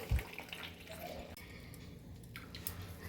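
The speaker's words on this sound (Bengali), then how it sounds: "দেখো আমি পুরো দুধটা একদম চিপে বের করে নিয়েছি, আর দুধ বেরোচ্ছে না" Homemade soy milk squeezed out by hand for tofu, a faint wet squishing and trickling of liquid, quiet and close, with a soft thump at the start.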